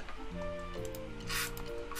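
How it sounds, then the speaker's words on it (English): A spray gun hisses in short bursts in the video game Scrap Mechanic, with a sustained spray near the middle over a steady backdrop of layered musical tones. "Man, I dig this spray gun."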